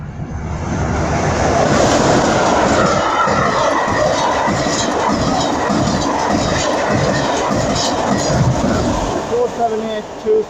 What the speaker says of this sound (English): First train to pass through is a Class 44 charter